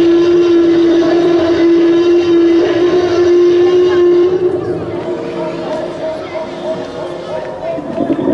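A ride on a small train at a wildlife park with dinosaur models, with a loud sustained horn-like tone over rumbling wheels and clatter; people talk and a crowd murmurs throughout.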